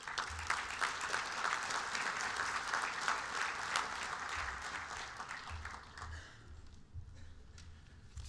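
An audience at a Victoria University graduation ceremony applauds to welcome Jean-Marc Imbert, a dense sustained clapping from a large hall that thins and fades toward the end.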